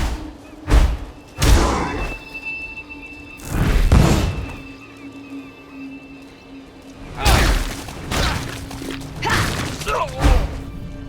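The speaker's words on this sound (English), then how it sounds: "Blew up 3 corpses all around him." Corpse explosions in the Path of Exile video game, several heavy booming thuds in irregular bursts, some stacked close together, loud over a low game hum, with faint voices at times.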